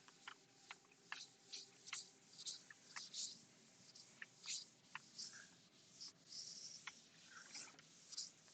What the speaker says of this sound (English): So we'll erase the board now.